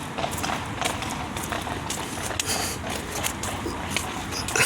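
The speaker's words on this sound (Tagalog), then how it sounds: "tingnan nyo, may kabayo." Hooves of a horse pulling a kalesa carriage clip-clop steadily along a road in the UK, close and continuous against outdoor background noise.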